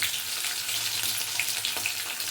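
Green chillies fry in hot oil for rava upma, giving a close, even, bright sizzle that stays constant throughout the short moment.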